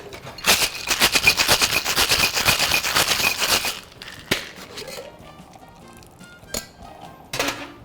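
A yuzu tequila margarita is shaken hard in a cocktail shaker, making a fast, loud rattle of ice for about three seconds. A few separate clinks and taps follow in near quiet.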